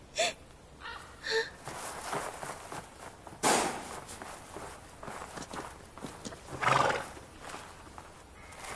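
A horse in an animated forest scene whinnies and gasps in distress, with hoofbeats and scuffling steps around it, fairly close, and a brief bit of talk.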